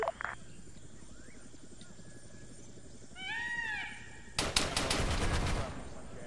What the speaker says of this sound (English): There's that 50 cal going off.